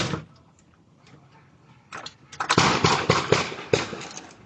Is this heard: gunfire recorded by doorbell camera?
yes